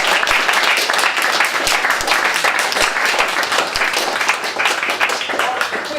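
A press conference audience for a boxing event claps steadily, many hands at once, a dense, continuous applause held at an even level for several seconds with no talk over it.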